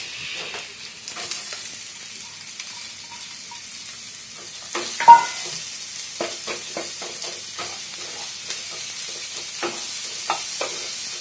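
Chopped onion fries in a pan with garlic already browned for a fig curry, giving a soft, steady sizzle broken by frequent spatula scrapes and stirring clicks, with one sharper knock midway.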